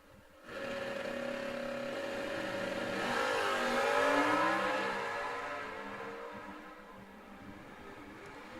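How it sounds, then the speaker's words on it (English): Drag race at a Quick Outlaw Series event in Bowling Green, with an '87 Pontiac Firebird automatic against a third-generation Camaro automatic: engines roar up as the cars launch and accelerate, swelling and then fading into the distance. "Jeff Taylor, Sellersburg, Indiana, 87 Pontiac Firebird. GTM automatic, 1120 index, taking on Bruce Fowler in the third gen Camaro"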